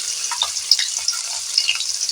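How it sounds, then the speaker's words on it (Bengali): Shrimp frying in hot oil in a wok: a steady close-up sizzle with brief crackles and small spatters, continuous and fairly quiet throughout with no talking. "চিংড়ি মাছ ভাজতে বেশিক্ষণ টাইম লাগবে না তাড়াতাড়ি ভাজা হয়ে যাবে"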